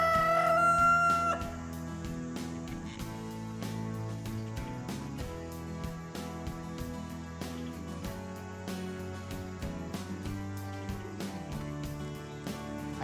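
Rooster crowing near a horse arena and trailer, one loud call at the start, then a steady harmonic backdrop with repeated soft clucking-like pulses.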